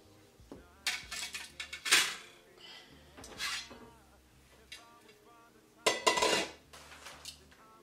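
Aluminum Alclad cookware pots and pans clanking and scraping as they are handled, several bright metallic knocks and clatters in bursts, close and fairly quiet with pauses between.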